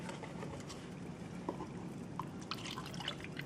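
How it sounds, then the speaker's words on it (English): A cup of vinegar pours into a sauce in a kitchen, a faint, quiet trickle with scattered light drips, heard close and alone. "I'm going to put my 1 cup of vinegar."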